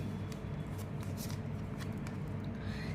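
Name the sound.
shuffling tea leaf reading cards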